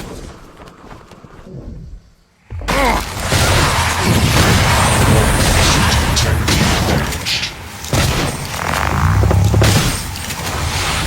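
A shotgun fires in a video game: a sudden loud boom after a brief quiet, followed by sustained heavy crashing and smashing noise with scattered impacts and a short lull.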